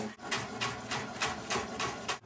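A knife slices Swiss chard leaves very thin, about an eighth of an inch, on a cutting board, making quick, rhythmic, close cutting strokes, roughly eight in a steady series.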